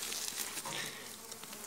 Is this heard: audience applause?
no